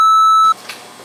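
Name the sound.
censor bleep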